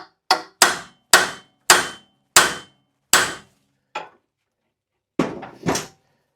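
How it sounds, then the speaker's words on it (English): A hammer strikes a large punch against a part of a vintage Suffolk Pony mower: six sharp metallic blows in a steady rhythm, a lighter tap, a pause, then two more hits, close and loud with silence between. "we're just going to get a fairly big punch, and I'm just going to tap that"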